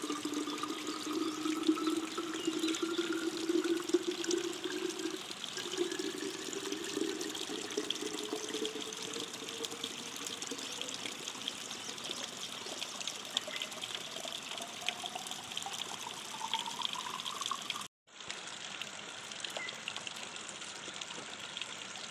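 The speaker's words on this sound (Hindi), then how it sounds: "पर यहाँ जो पानी आता है वो बहुत अच्छा पानी होता है, ठंडा पानी रहता है।" Cold water runs steadily from a village water source, a constant close gushing trickle with a shifting tone, broken by one very brief dropout near the end.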